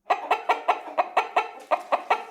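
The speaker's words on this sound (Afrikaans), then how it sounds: "'n Mamma hoender word 'n hen genoem." A hen clucks in a steady rhythm, about ten evenly spaced clucks heard close and clear with no other sounds.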